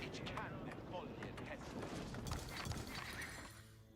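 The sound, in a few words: horses in a real-time strategy video game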